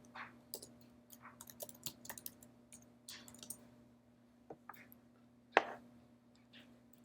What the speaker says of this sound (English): I'm going to type that into their search.